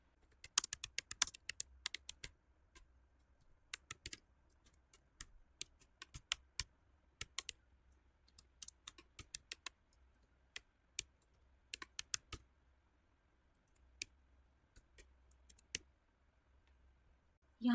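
Keystrokes on a computer keyboard entering an SQL insert command, quick irregular bursts of crisp clicks separated by pauses over a near-silent background.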